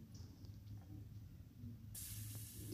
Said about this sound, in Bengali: এবার ওই তেলের মধ্যে আলু আর বেগুন আমি ভেজে নিচ্ছি।